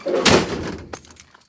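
A car door on a 1955 Ford Customline being body-swapped onto a BMW e39 shuts with one loud, close thump and a brief rattle, then a softer knock fades out.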